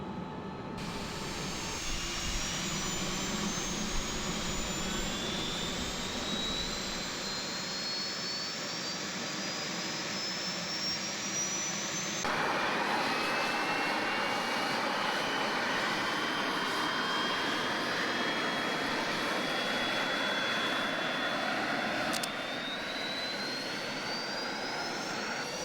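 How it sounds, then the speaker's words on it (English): An F-14 Tomcat's jet engines in a flight simulator spool up and run, a loud continuous roar and rising whine that holds steady throughout with no voices. "Alright, engine's running up."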